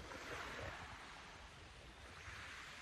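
Sea waves washing in steadily at low tide, a continuous broadband surf wash with some wind noise, moderately near and without speech.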